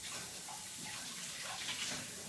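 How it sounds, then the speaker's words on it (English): Running kitchen tap water pours steadily over fingers being rinsed mid-recipe, a continuous close splashing hiss with no talking. "Let me just grab a quick finger wash here."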